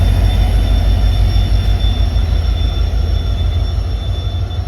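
Howrah Chakradharpur Express (18011) pulling out of Howrah station at night, a loud continuous low rumble of rolling carriages with steady rail noise and no speech.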